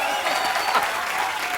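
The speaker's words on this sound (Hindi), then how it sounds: "पर जोरदार ताली बजाइए" A studio audience at a comedy show claps loudly in a dense, continuous burst of applause, close and filling the short moment.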